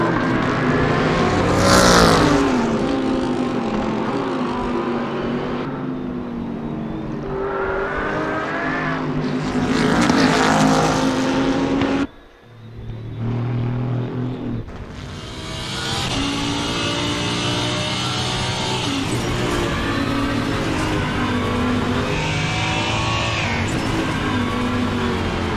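GT race cars, among them a Bentley and a McLaren, roar past one after another on the Nürburgring GP circuit, loud engine notes rising and falling with gear changes, a brief dip before the pack pours through continuously.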